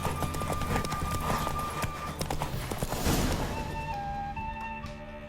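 Galloping horse hooves pound steadily in The Witcher video game, close and continuous alongside game music, fading slightly near the end with no voices.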